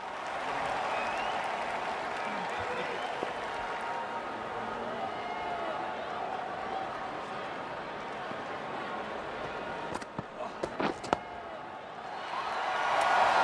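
Spectators at a cricket match (Afghanistan vs Hong Kong, 2018 World Cup Qualifier) applaud a boundary four, a steady ripple of clapping and crowd noise with a few sharp knocks near the end and swelling again at the close.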